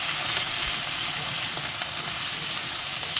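Garlic sizzles steadily in hot oil with spice paste for a jackfruit and prawn curry, a continuous close frying hiss with small crackles and no pauses.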